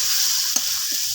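Onion paste and garlic paste frying together in a pan give a brief, steady close sizzle with a faint stir or tap partway through.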